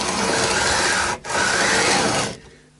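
Sandpaper rasps steadily across an Eko Ranger VI guitar body during a refret, two continuous close strokes separated by a brief pause, then fading out.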